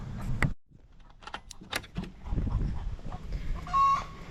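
Young pullets and other chickens in a backyard coop give scattered clucks and short calls, fairly close, with brief rustling between them and no talk.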